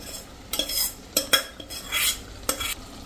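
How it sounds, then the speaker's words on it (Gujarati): Vegetables for a Saurashtra-style chapdi undhiyu are stirred into hot oil tempering, producing several distinct bursts of scraping and clattering against the pan, separated by brief quieter gaps with a faint sizzle, up close. "તો હવે આવી રીતે આપણે મિક્સ કરી લેશું શાકને વઘારમાં જ."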